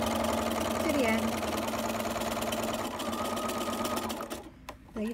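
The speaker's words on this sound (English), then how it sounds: "There you've sewn your 2 pieces together." Sewing machine running steadily as it stitches fabric pieces together for a face mask, a close, continuous rapid mechanical chatter that slows and stops near the end.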